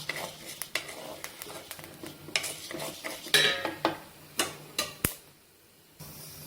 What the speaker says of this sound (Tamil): அதுக்கப்புறம் துவரம் பருப்பு, அதுக்கப்புறம் உளுந்தம் பருப்பு, எல்லாம் ஒண்ணு போல பொரிஞ்சு வந்துடும்